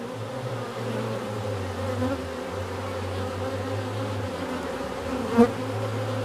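Honeybees buzz in a dense, continuous drone close by at a hive, a steady hum with no voices.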